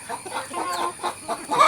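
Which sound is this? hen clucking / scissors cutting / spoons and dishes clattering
hen clucking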